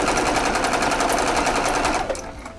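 A sewing machine stitches fabric strips onto batting for a small scrap tote bag, a fast steady needle rattle running continuously up close before slowing and stopping near the end.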